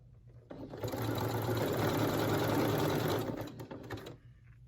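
A sewing machine topstitching elastic along the leg openings of a swimsuit runs in one steady, close, loud burst of about three seconds, starting and stopping cleanly without any talk.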